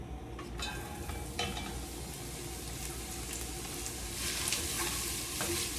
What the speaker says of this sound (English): when you start hearing that little sizzle, you can add all of your veggies in here